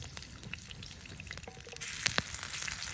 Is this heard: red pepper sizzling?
yes